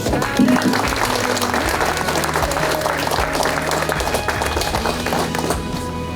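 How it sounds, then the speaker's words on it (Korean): Audience applause at a CBS inauguration and plaque ceremony honoring two retirees, a steady wash of clapping from many hands, with a low background hum and some speech mixed in. "진심으로 박수를 같이 보내주십시오"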